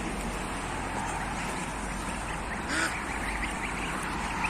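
Geese honk and call noisily in a farmyard, a steady, moderately faint chorus of overlapping cries with a slightly louder burst near the middle and no clear talk.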